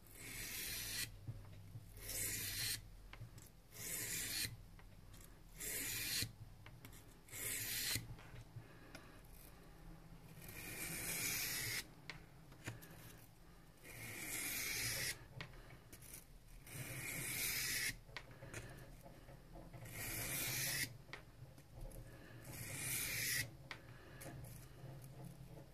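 A kitchen knife is sharpened on a water whetstone, with repeated rhythmic scraping strokes in regular bursts separated by short pauses, close and clear with no talk.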